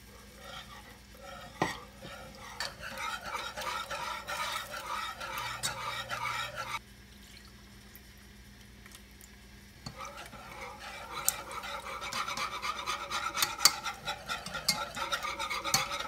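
A spoon stirs creamy chicken and wild rice soup in a pot, making soft, wet, continuous scraping and swishing sounds. The stirring stops briefly in the middle, then resumes slightly louder.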